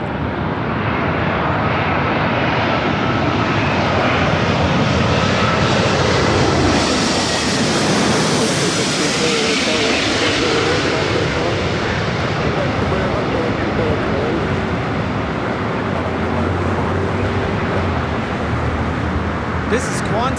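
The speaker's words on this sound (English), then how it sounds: "This is Qantas Flight 11 coming in from Sydney on the A380." A Qantas Airbus A380 on a go-around at Los Angeles LAX roars overhead as a loud, sustained jet engine rumble with a Doppler sweep, while people talk nearby.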